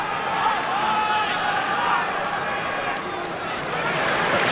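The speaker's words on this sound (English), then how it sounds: "You hear the applause in the crowd." Crowd at a 1987 Rugby World Cup quarter-final between New Zealand and Scotland, a broad steady roar of applause and noise from the stands, with a commentator talking over it throughout.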